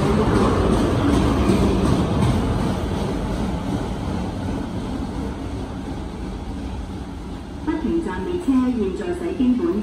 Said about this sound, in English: The non-stop train is passing through the station.